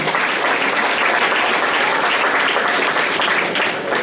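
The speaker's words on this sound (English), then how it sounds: "Let's give her a round of applause." Audience applause at a St. Peter Claver graduation ceremony, loud and sustained clapping from a large crowd, dense and steady throughout.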